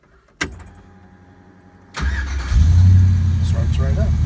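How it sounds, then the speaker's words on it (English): A 1968 Chevelle with a swapped 5.3 LM7 LS V8 cranks briefly and fires up, settling into a loud, close, steady idle after a click and a short pause. "If it's warm, I can just barely punch that starter motor and it starts right up."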